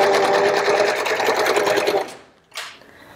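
A four-thread serger set to stitch length 5 sews in a fast, even buzz for about two seconds, then stops, followed by a brief softer whir.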